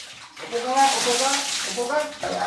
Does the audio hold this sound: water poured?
yes